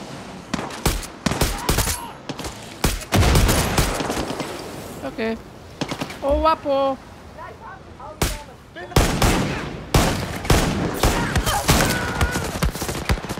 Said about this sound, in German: irgendeiner schießt auf mich